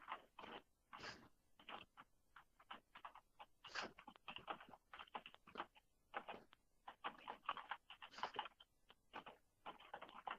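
Someone types on a computer keyboard indoors, quick irregular bursts of sharp key clicks with short pauses between them, near but quiet, and no one speaks.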